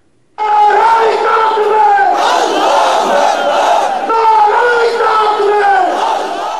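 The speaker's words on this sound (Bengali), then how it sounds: "নারায়ে তাকবীর ধ্বনিতে মুখরিত সোহরাওয়ার্দী উদ্যান সহ আশেপাশের এলাকা" A dense crowd at a Jamaat rally in Suhrawardy Udyan chants the Naraye Takbir slogan, a loud, sustained roar of many voices that swells in waves right after a brief moment of silence.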